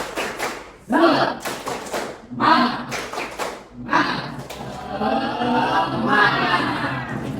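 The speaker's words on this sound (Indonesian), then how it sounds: "Tepuk semangat." A standing group in a classroom session does the Indonesian spirit clap, tepuk semangat: loud bursts of clapping and thumps in a patterned rhythm, with voices chanting and talking between and over the claps.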